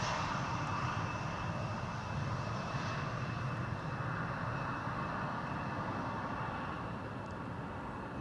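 An EasyJet Airbus A320 lands on the Polderbaan runway at Amsterdam Schiphol under gusty skies, its engines giving a steady, moderately distant roar with a faint thin whine held throughout.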